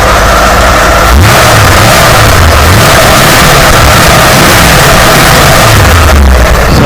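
Engine with a Holley carburetor revving in repeated blips from idle, each rise clean and quick without stumble, loud and close in the engine bay, no voices.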